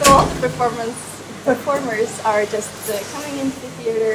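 A vacuum cleaner runs somewhere in a theater as a steady, muffled whir in the background, while a person talks close by over it.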